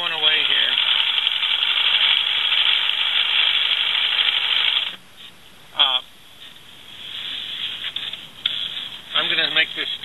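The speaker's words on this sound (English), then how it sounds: "So we're sewing away here." A sewing machine stitching a heavy-duty web strap runs in a steady, loud whirr for about five seconds and then stops, followed by a person talking.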